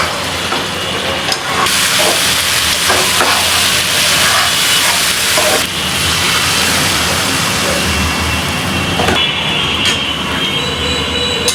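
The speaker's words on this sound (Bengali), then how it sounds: "এখন আমি এখানে চিকেনগুলো দিয়ে দিব, ভাজা চিকেনগুলো।" Fried chicken pieces drop into a pan of spiced potato masala, which gives a loud, steady, close sizzling hiss that lasts throughout, with no talking.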